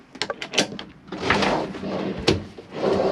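A storage drawer in a Bailey Approach Autograph 745 motorhome gives a few quick clicks, then a close, rumbling slide as it runs open or shut.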